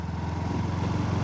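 A motorbike engine drones steadily and close-up as it rides over a bad, rough road, a continuous pulsing low rumble with no break.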